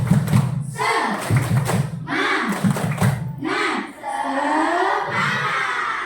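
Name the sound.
class doing a rhythmic spirit clap (tepuk semangat)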